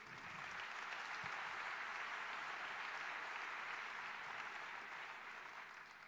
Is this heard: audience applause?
yes